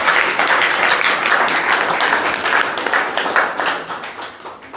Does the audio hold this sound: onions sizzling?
no